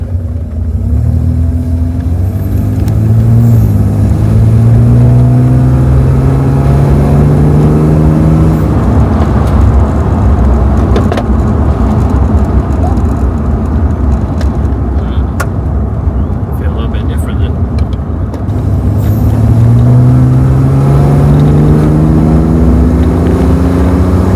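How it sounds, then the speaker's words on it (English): Holden VL Commodore with RB30 engine, refurbished lifters and new injectors, driving with a loud steady rumble inside the cabin and two rising acceleration sweeps. "So this is the first drive since we've refurbished the lifters and put new injectors in it."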